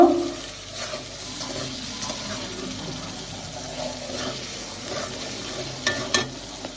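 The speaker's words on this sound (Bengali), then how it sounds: "দিয়ে দিলাম স্বাদ মতো লবণ এক চামচ হলুদের গুঁড়া দিয়ে আমি মশলাটা সুন্দর করে একটু কষিয়ে নিব" Onion and garlic paste with salt and turmeric sautéing in a pan, a faint, steady sizzle with occasional stirring scrapes, heard alone without talk.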